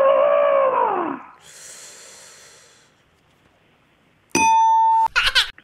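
A human voice imitates an African elephant's call over a telephone line into a radio studio: one loud, falling, trumpet-like cry, then a soft breathy hiss, and finally a sharp electronic tone with a burst of noise.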